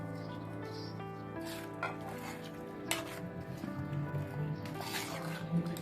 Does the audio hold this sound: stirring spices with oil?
yes